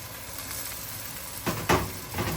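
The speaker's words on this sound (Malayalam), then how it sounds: "നല്ലോണം ഇളക്കി കൊടുക്കാം." Tomato and a small brinjal are stirred into a frying pan for chicken theeyal: a faint, steady sizzle with a couple of brief spoon scrapes near the end.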